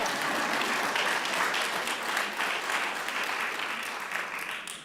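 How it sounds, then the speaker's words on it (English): An audience claps at an employee service award presentation, a dense, sustained round of applause from a roomful of people that holds steady and then tapers slightly at the end. "I'm waiting for the clapping."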